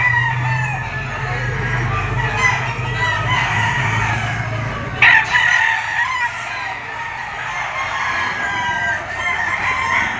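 A sweater bull stag gamefowl rooster crows loudly nearby, with clucking and other farm chickens around it, one sharp crow standing out over steady background noise.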